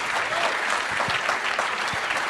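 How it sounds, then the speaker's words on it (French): Steady audience applause at a live tech conference show, dense continuous clapping with a few sharper claps standing out throughout. "ça mérite quand même quelques applaudissements, non?"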